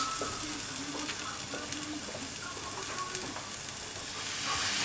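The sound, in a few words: maple syrup poured into a pan and stirred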